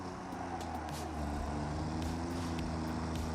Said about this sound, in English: it's got exhaust and an internal combustion engine sound